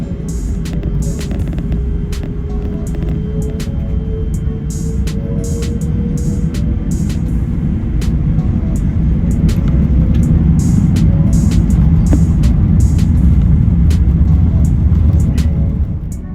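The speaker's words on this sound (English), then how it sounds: "we're lining up on runway 36 left for takeoff to the north" Airbus A380 on its takeoff roll from runway 36 left at Madrid, heard from the economy cabin: a steady, loud engine roar and low rumble swelling slightly as thrust builds, with a rising whine and faint clicks and rattles.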